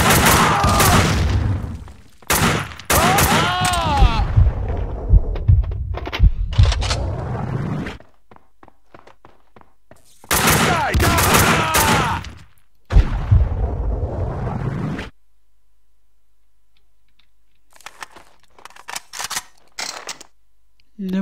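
A grenade blast and gunfire in the video game Max Payne 2: loud bursts of explosion and shots come in two separate stretches, with quiet gaps between and faint scattered sounds at the end.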